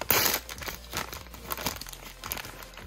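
Plastic packaging crinkling as a Monster High Draculaura doll is unboxed, close, irregular bursts of crackling and rustling with brief pauses.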